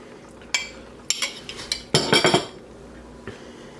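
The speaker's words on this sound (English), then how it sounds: "And just stir that back into the soup." A spoon clinks and scrapes against a metal pot while meat is stirred back into a dark soup. Several sharp metallic knocks come in bursts, with a cluster of rapid clatters near the middle and a quieter tap at the end.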